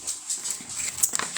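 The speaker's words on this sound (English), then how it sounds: "I scared the dog." A dog, startled by a loud bang, whimpers in a few thin, high, short whines at moderate distance over a quiet indoor background.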